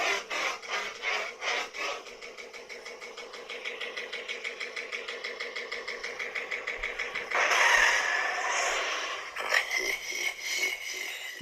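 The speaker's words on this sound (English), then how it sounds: "Saboba Pod Racer." Saboba Pod Racer sound font on a Proffie-board Anakin Knightfall lightsaber, a throbbing engine-like hum with rapid regular pulsing, swelling into a louder roaring whine midway before the rhythmic chugging drone resumes, close and continuous.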